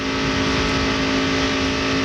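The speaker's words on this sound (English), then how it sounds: "now the car should be pretty much up to full speed by now" NASCAR stock cars race at full speed at Daytona, a dense, continuous, loud engine roar with a steady high whine and no talk.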